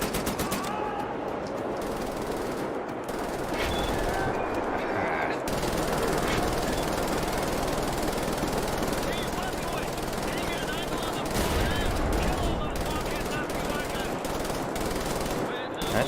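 Sustained machine gun fire from an MG42 in the shooter game Wolfenstein: The New Order, dense rapid bursts running almost without pause, loud and close, with battle noise throughout.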